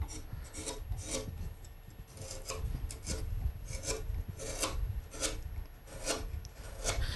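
A skew chisel carves and shapes wood in steady, rhythmic rasping strokes, each scrape repeating about every half second, close and continuous, with no voices.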